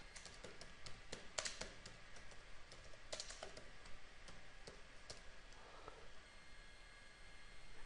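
Typing on a computer keyboard, a run of irregular clicking keystrokes with a few louder taps, close and clear over a quiet background hum, no talking.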